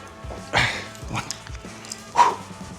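A few short dog barks and yips at home, scattered across a few seconds with a person speaking in between and background room noise.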